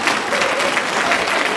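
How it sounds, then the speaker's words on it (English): A loud, dense burst of audience applause fills a brief moment during an orientation session, steady and close throughout. "You're clapping for it."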